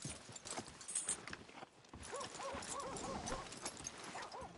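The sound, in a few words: horse sounds in video game Red Dead Redemption 2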